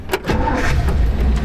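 A 1956 Ford Fairlane Sunliner convertible with a 292 four-barrel V8 and automatic transmission cranks and catches right away, settling into a steady, close, rumbling idle with no talk over it.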